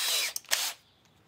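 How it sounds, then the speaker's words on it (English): A DeWalt power drill whirs in a short, loud burst of under a second, then cuts off and winds down, with no one talking. "Now we need a drill, which I have right here. Nice DeWalt drill."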